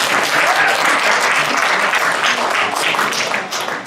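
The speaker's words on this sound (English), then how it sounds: "I'll accept that in advance as applause for me." An audience at a political forum breaks into dense, sustained applause, loud and continuous throughout, with no talk over it.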